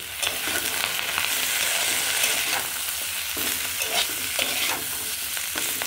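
Chorchori, a mixed vegetable curry, cooks in a pan with a steady bright sizzle, broken every so often by the scrape and clatter of stirring. No one talks.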